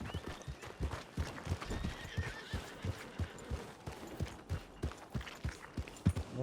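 A horse in Red Dead Redemption 2 whinnies and clip-clops along with steady rhythmic hoofbeats, close and fairly loud, with a few neighs mixed in.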